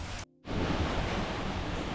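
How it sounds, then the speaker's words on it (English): Water rushing through a wooden flume toward the water wheel at Hopewell Furnace historic ironworks, a steady broadband roar that cuts out briefly near the start and then continues loud and close. "The water flowing in through the flume turns the wheel,"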